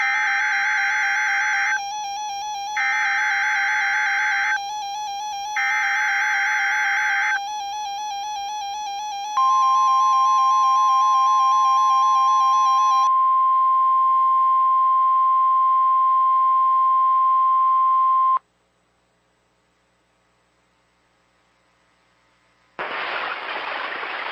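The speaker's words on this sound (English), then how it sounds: "The attention signals you just heard will automatically activate special receivers to warn of the impending hazard." NOAA Weather Radio warning alarm: a loud run of alternating beeping tone bursts gives way to a long, steady, piercing alarm tone, then silence and a sudden burst of broadband noise.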